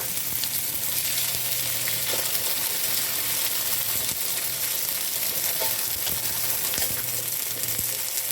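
Okra and eggs stir-frying in a pan make a steady, continuous sizzle with faint scrapes and stirring clicks throughout, close and fairly loud, with no talking.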